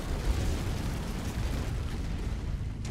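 Destroyed turret exploding in MechWarrior 5, a dense, continuous rumbling blast with heavy low-end roar that holds steady throughout without a sharp decay.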